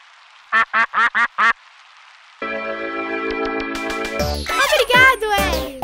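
A cartoon duck gives five quick, evenly spaced quacks alone, followed by bright chiming music and playful sound effects from a children's animated show.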